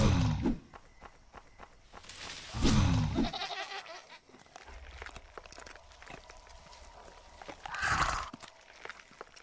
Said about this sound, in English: I found a goat.